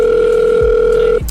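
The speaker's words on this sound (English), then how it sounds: "Phone ringing." A telephone ringing on a call, one loud steady tone held for over a second and then cut off, close and clear, with no talk over it.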